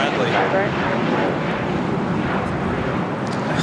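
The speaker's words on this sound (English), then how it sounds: "the A380 Emirates making those final turns, heading into the southwest corner of Tom Bradley." An Emirates Airbus A380 on final approach into LAX, a loud continuous jet roar that holds steady throughout while a commentator talks over it.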